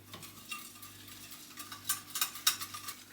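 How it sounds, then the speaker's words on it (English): A big whisk stirs oat milk in a bowl, soft scraping and swishing strokes building into quicker, brighter clinks near the end, close and fairly quiet. "Give it a good whisk."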